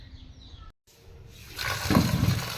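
Water pours and splashes over nal velai (Thai velai) greens being washed in a kitchen, rising from a faint trickle into a fuller, steady gush of running water.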